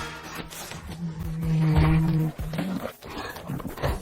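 A bear at close range lets out a loud, sustained roaring growl that swells for about a second, then breaks into rougher grunting snarls and rustling movement.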